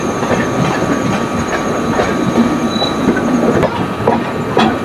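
The Ernakulam SF Express from Bangalore rolls around a curve out of Krishnarajapuram station, heard from inside the train as a loud, continuous rumble with rhythmic wheel clatter and occasional high squeals, with no voices.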